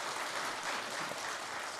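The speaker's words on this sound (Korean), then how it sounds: "여기서 박수 한번 쳐주셔야 됩니다" A church congregation applauds the children of the church school, a steady wash of clapping from many hands filling the room evenly throughout without pause.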